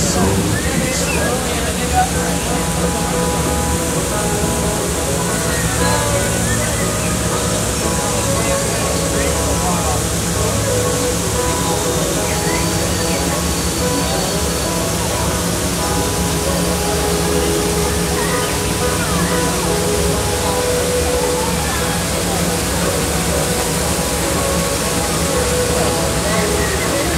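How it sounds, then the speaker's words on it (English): Cascading waterfalls along the Rivers of America at Disneyland, a steady, dense rush of falling water that stays loud and even throughout with no breaks. "the cascading waterfalls"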